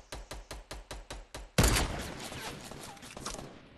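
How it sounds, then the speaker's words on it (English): Battle royale gunfight: seven evenly spaced single shots in a steady rhythm, then a much louder close blast followed by a long rumbling decay and scattered distant echoes. "Keep shooting at him."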